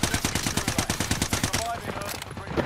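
Rapid video-game gunfire cracks in a fast, evenly spaced burst of about a dozen loud shots, then cuts out into a quieter tail with a few faint pops.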